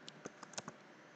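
A computer keyboard types a file name while a SolidWorks part is being saved: about six quick, light key clicks in an irregular rhythm, close but faint, with no talking.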